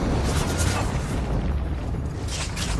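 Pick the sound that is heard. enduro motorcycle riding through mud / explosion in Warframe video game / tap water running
explosion in Warframe video game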